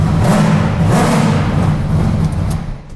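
A car engine fires up at once and runs loud and close with a rough, throaty idle and slight revving, then eases off near the end, with no talk.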